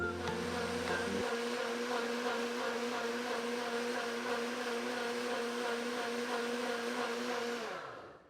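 A blender purees creamy asparagus soup, its motor whirring loudly and continuously at close range, shifting pitch early on, then winding down at the end.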